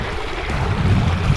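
A waterfall near Lake Lilla on a walking track in the Cradle Mountain area gives a steady, broadband rushing roar. Outdoor wind buffets the microphone, and the roar holds constant throughout.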